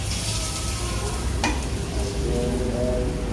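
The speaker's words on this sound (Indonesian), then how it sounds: "Kita aduk sedikit" A beef steak sauce with added water simmers and sizzles steadily in a pan while being stirred, with one brief utensil clink near the middle and no voices.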